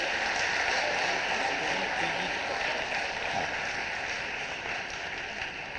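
Audience applause at a National Ayurveda Day event attended by Madhya Pradesh's chief minister, a steady, dense wash of clapping filling the hall for several seconds before easing slightly toward the end.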